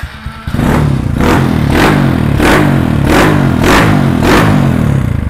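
A used trail motorcycle engine starts and runs loud and close, revving in a steady series of about seven rising bursts over a rough idle, with no talk over it.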